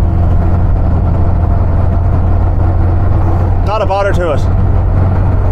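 Steady, loud road and engine drone from a 1979 VW Bay window camper cruising at about 50 mph in fifth gear, continuous throughout, with a person talking over it near the end.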